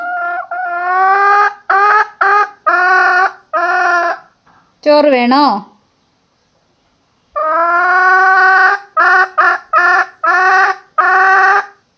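Loud, close hen clucking in repeated drawn-out squawks, broken by a short pause where a person speaks briefly, then the clucking resumes.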